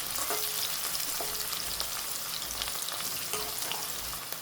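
Tomatoes sizzle and fry steadily in a hot pan for makul (squid) keema with green masala, with occasional stirring scrapes and ticks over a continuous close, loud frying hiss; no one speaks.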